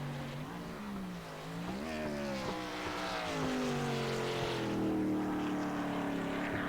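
Stock car engine in a racing video game at Motegi road course, revving steadily and accelerating out of a corner, a loud continuous rising drone with shifting pitch and no talk.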